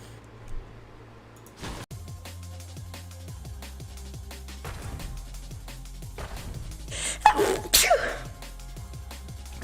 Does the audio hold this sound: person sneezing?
yes